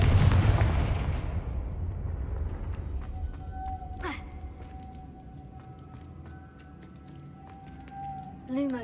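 A Confringo fire spell in Hogwarts Legacy bursts with a loud, close blast that rolls off into a fading rumble, followed by a brief swooshing flare midway.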